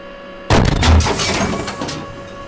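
Tank cannon firing a sabot round in the tank simulator Steel Beasts Pro PE: one sudden, loud blast followed by a rumbling decay and a long reverberant tail, with no voices.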